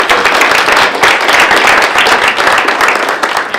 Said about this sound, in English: so another round of applause for Windsor.